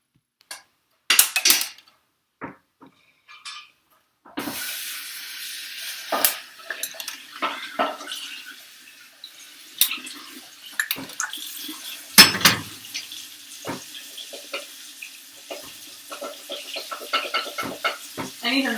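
Homemade makeup is stirred and melted in a kitchen pot, producing scattered scraping clinks and soft sizzling, intermittent and close, with brief quiet gaps between bursts.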